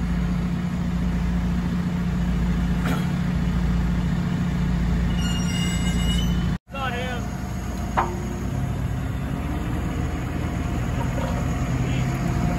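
A telehandler working in snow runs with a steady, low, droning engine hum throughout, loud and close, with a brief dropout midway and a few faint clicks and squeaks over the drone.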